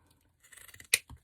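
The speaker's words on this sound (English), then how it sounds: "scissors here, and I'm just going to cut any size that you want" A sharp scissor snip through ribbon stands out after some soft rustling handling noise, followed by a quieter second snip.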